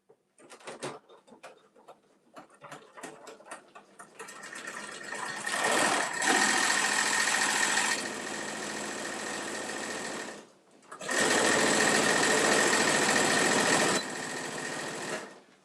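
A sewing machine stitches through a thick tote bag seam, with faint clicks and handling at first, then long loud bursts of steady motor whir separated by a short pause.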